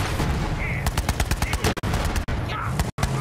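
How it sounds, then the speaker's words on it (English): Rapid gunfire in Borderlands 3 rattles out as dense, loud bursts of shots aimed at a vehicle, with a few brief gaps between volleys. "Stop shooting my vehicle!"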